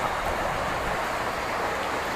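Steady monsoon downpour at the Dharmasthala temple in Karnataka, a dense continuous hiss of rain falling nearby with no voices.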